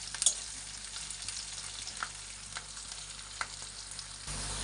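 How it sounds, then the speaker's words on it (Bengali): Green chilli, onion and garlic frying in a pan, giving a steady low sizzle with occasional stirring scrapes and soft clicks, close and alone without talk. "এখন একটু লাল লাল করে ভাজা হবে কাঁচা লঙ্কা পেঁয়াজ রসুনটা"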